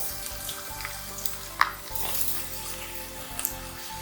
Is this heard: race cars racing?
no